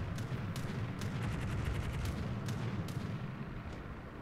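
Torpedoes launching from an American tier-7 Florida battleship in World of Warships amid a dense, steady roar of naval gunfire, with a run of rapid sharp bursts and several heavier booms standing out loud and continuous.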